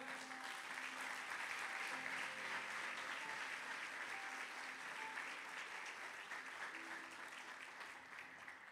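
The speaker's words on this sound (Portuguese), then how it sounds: "Você pode aplaudir o Senhor?" Church congregation clapping in sustained, dense applause that fills the room and continues steadily before slowly easing.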